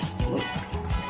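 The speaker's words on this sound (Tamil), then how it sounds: "இன்னொரு லிட்டர் தண்ணி ஊற்றிக்கலாம்." Water being poured into a cooking pot, a second litre added while making an Ayurvedic immunity-booster drink; a steady low splashing fill that swells and eases in short surges, close and moderately loud.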